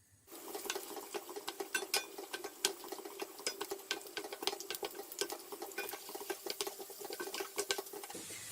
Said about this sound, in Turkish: Fıstık ve bademlerin rengi dönene kadar kavuruyorum